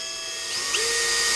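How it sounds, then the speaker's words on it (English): Power drill boring fret marker holes into a guitar fretboard, a steady high-pitched whine with a slight rise in pitch as the bit engages, close and continuous. "I'm going to drill all these holes"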